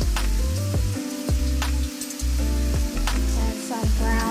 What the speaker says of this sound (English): Now you just want to continue to cook your ground beef until it's all brown.